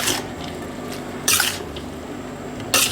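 Sauce drizzled into a pan of Chicken Pad Thai, a soft liquid trickle with a few brief louder splashes and bursts, close by and without talk.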